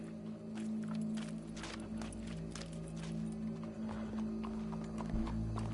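Horse hooves clip-clop at a steady walking pace in the Red Dead Redemption 2 video game, an even run of soft thuds over a constant low hum with no talk.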